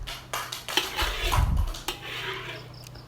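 Stir-fried green beans spooned from a pan into a bowl, a few light clinks and scrapes of utensil against dishware with a soft rattle in the middle, brief and close.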